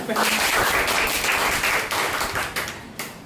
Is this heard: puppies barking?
no